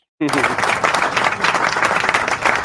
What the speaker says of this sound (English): I'm gonna give you my applause.